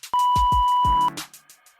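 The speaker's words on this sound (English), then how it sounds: "go ahead and leave your message at the sound of the beep" A single long electronic answering machine beep, steady and loud, lasting about a second, followed by a brief clatter and quiet background.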